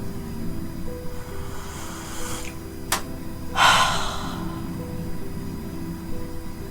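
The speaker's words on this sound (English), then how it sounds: "let's go in for a sniff" A close, deep sniff of Jade Terminus Oxygénée absinthe, a short breathy inhale over a steady background hum, with a quick sharp click just before it.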